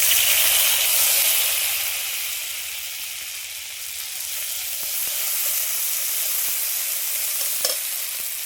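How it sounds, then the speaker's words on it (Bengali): Ground spice paste sizzles steadily in hot oil with whole cardamom, cloves and cinnamon, a continuous bright hiss with stirring scrapes, loud and close throughout, no voices. "আর বাটা মশলাটা দিয়ে দেবো।"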